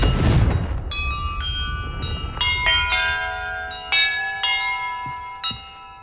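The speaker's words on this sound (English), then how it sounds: "Perhaps the map contains clues about the order I'm supposed to ring the bells in." Large bells in Hogwarts Legacy ring out one after another, each a loud metallic strike with a long shimmering decay that overlaps the next, after a deep rumbling impact at the start.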